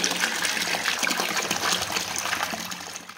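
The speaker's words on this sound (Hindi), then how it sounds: "तो पाइप दे देते हैं तो मैं पानी भर लेती हूँ" Water gushing steadily from a hose pipe as a container is filled at home, a continuous close splashing rush that fades slightly toward the end, with no talk.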